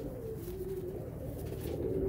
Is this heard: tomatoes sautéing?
no